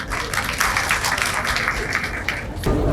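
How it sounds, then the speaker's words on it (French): Audience applause at a Malian university debate event, steady dense clapping throughout, fairly loud and continuous, with a brief shift near the end. "Veuillez les applaudir"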